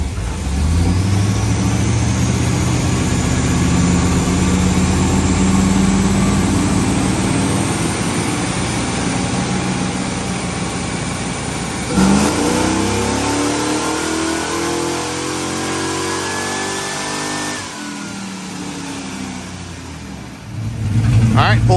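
A 1994 LT1 V8 with only a cam change runs a dyno pull with the exhaust cutout closed and a stock throttle body, engine note loud and steady as it climbs in pitch, then drops off and lightly revs near the end.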